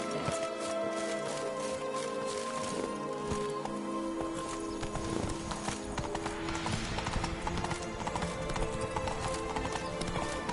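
Hooves of the horse Roach clip-clop steadily in The Witcher 3, a continuous rhythmic trot over game music and ambience, with a faint whinny.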